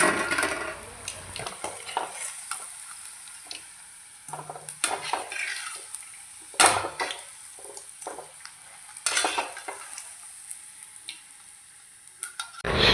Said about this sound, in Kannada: ಈ ದೊಡ್ಡ ಕಟ್ ಮಾಡಿದ ಈರುಳ್ಳಿಯನ್ನು ನಾನು ಫ್ರೈ ಮಾಡ್ತಾ ಇದ್ದೇನೆ